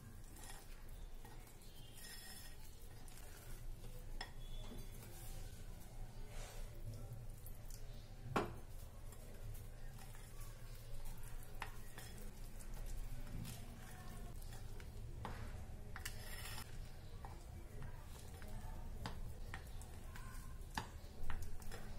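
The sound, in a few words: stirring cake batter while adding milk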